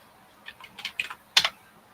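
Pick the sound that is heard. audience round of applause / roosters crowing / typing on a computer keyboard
typing on a computer keyboard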